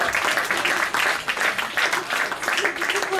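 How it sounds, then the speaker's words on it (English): Applause from an audience at a traditional Irish music session in a New York club, following a slip jig by a teacher and students; continuous clapping with talk mixed in. "Let's give him a round of applause."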